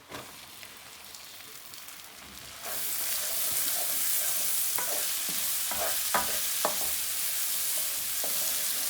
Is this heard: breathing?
no